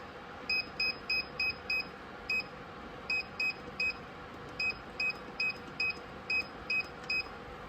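A kitchen timer chirps in quick repeated beeps while being set, short high tones in irregular bursts over a steady background hiss, fairly close and moderately loud.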